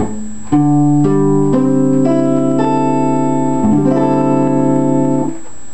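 Minor barre chord on an acoustic guitar, rooted on the fifth string, with all six strings strummed in a series of about six ringing strums that sustain and overlap, close and clear with no voices.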